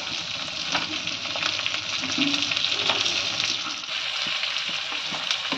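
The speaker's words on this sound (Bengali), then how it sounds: "এইভাবে 300 গ্রাম পেঁয়াজ ভেজে নিচ্ছি" 300 grams of chopped onions fry in hot oil for restaurant-style chili chicken, a loud, steady close-up sizzle with occasional stirring scrapes and no talking.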